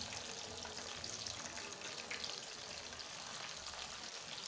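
Chicken pieces for spicy dhaba-style fried chicken frying in a kadai, giving a steady, soft, close sizzle with a watery hiss that never lets up.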